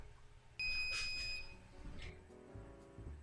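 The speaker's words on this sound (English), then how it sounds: "There's my timer going." An electronic beeping alarm starts abruptly and rings steadily for about a second, then fades under soft kitchen clatter and background noise.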